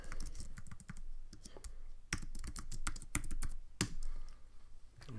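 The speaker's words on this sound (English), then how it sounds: "I type in my username" Fast, close clicking of a computer keyboard as a username is typed into a Django admin login page, with irregular bursts of keystrokes running through the whole stretch and no voice over them.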